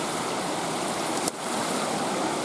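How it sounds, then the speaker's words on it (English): An outdoor river stream flowing close by, a loud, steady broadband wash of rushing water with one brief dip partway through and no talking. "Let's go down this old world river stream thing."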